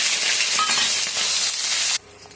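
Onions frying in hot oil with dried red chillies and panch phoron, the base for a fish-head bottle gourd ghonto, give a loud, steady close-up sizzle for about two seconds before cutting off abruptly to near quiet.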